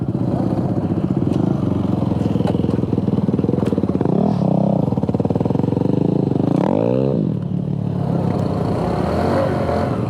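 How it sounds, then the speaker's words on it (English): A Honda CT125 dirt bike rides over wet, muddy ground with a close, steady engine putter that rises and falls with throttle changes, alone and loud throughout. "this is the first dirt bike I've ever ridden that had ABS on the front"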